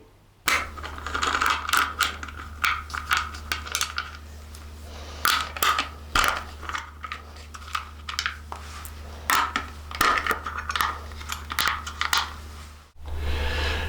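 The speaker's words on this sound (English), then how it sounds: "We're going to use our 10mm socket and remove the 3 bolts shown here." A 10mm socket wrench ratchets out bolts from the standard rear guard of a 2021 CFMOTO 700 CL-X motorcycle, with rapid close clicking bursts, metallic clinks and pauses over a low steady hum.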